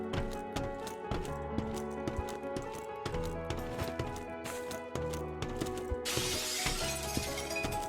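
A window is smashed in the firefighting game Firefighting Simulator The Squad, with a dense clatter of breaking glass and debris over steady game ambience, ending in a loud hiss.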